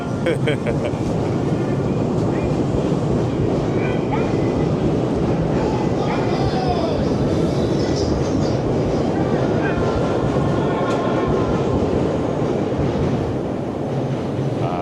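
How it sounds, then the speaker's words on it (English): A Chicago elevated train, the Purple Line holiday train, rumbles past with a steady, loud roar and faint clattering, with people talking over it. "The purple line holiday train."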